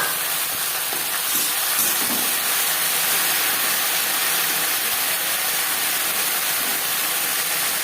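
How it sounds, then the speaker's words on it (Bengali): Whole cumin seeds frying in hot mustard oil, about to be joined by okra for a bhindi aloo bhaja: a steady, close, dense hiss and sizzle running evenly throughout with no talking. "জিরে আমি 15-20 সেকেন্ড ভেজে নেব"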